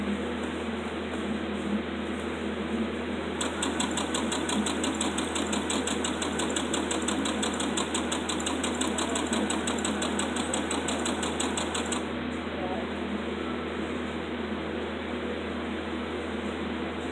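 A sewing machine stitching fabric bunting runs with a steady, fast mechanical whir and rapid needle ticking, holding at an even level throughout, close up with no talk.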